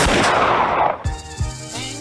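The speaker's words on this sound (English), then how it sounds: "If that gunshot was very loud, I apologize." Loud gunshot sound effect: a sustained blast of noise followed by two sharp, booming reports with ringing tails, no talking.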